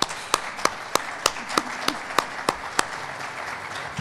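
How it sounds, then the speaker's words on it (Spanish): Applause at a university conference session on service quality: fairly regular, distinct claps sounding over a soft room background, spaced evenly and fading slightly toward the end, with no speech. "No les importa que aplaudan."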